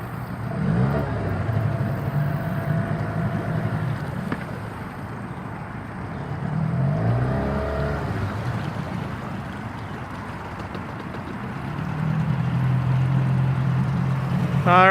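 Boat with an inboard motor running in gear against a strong current on Buffalo Bayou downtown, a steady low engine rumble mixed with water and wind noise.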